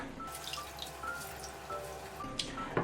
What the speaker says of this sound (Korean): 숙반은 찬물에 헹군 다음에 물기를 꼭 짜주세요.